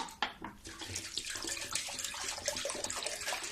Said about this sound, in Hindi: अब इसमें मैं थोड़ा ठंडा पानी डालूंगी।